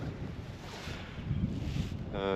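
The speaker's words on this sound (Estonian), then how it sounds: "Küllalt tuuline on" Strong wind buffets the microphone on an early-morning fishing spot by the water at sunrise, a steady low roar that swells slightly near the end, with no talking.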